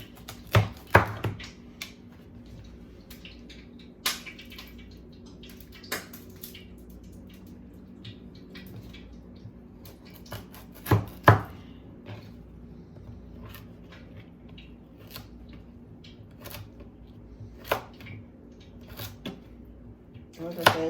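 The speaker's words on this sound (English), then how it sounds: "But just cubing them makes it easier to cook because you know it takes a while for sweet potatoes to cook, or any potatoes to really cook." A knife cubes sweet potatoes on a cutting board in scattered, sharp chops, some in quick pairs, separated by pauses while a person talks quietly throughout.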